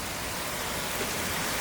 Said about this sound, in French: il se met à pleuvoir très fort